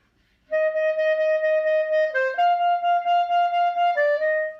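A clarinet plays a steady stream of evenly tongued sixteenth notes, clear and close, shifting pitch a few times with no talking.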